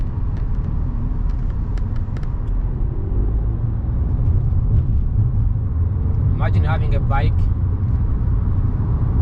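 A car accelerates along a road as traffic clears, its engine a steady low rumble close by, with a person talking over it throughout.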